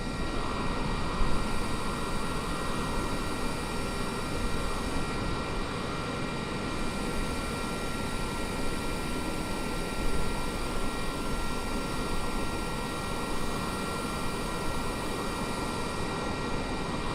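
HondaJet light business jet in Microsoft Flight Simulator 2020, a steady broadband engine roar with a faint high whine held constant throughout a descent, no talk.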